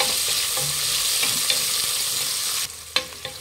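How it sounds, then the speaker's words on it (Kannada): Sliced onions fry and sizzle in hot oil while being stirred for chicken biryani, a steady close crackling hiss with soft scraping stirs, easing off near the end. "ಈರುಳ್ಳಿ ಒಂದು ಸ್ವಲ್ಪ ಫ್ರೈ ಮಾಡ್ಕೊಳ್ಳಿ. ಎಣ್ಣೆಲಿ ಫ್ರೈ ಮಾಡೋದಕ್ಕೆ ತುಂಬ ಚೆನ್ನಾಗಿರುತ್ತೆ."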